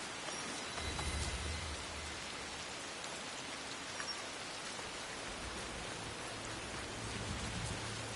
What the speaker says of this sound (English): I also love the rain in this game.